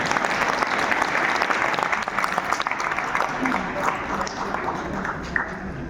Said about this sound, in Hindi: उन गुरुओं के लिए आप जबरदस्त ताली बजाइए